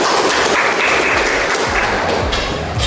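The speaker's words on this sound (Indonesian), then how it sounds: "Kita kasih aplaus untuk kita semua" A classroom of students applauding together, dense loud clapping that holds steady for about three seconds with no talk over it.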